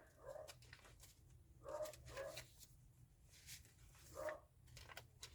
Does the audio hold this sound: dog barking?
yes